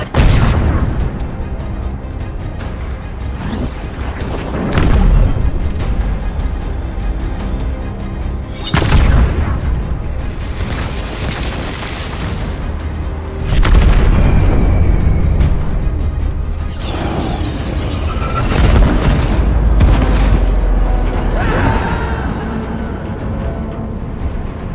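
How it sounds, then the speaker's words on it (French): Heavy booming cannon blasts from a MAC magnetic accelerator cannon in Halo Reach, several loud, deep shots spaced a few seconds apart over a dense rumbling sci-fi battle mix, no talking. "l'obus que tire le canon à accélération magnétique est un projectile non téléguidé"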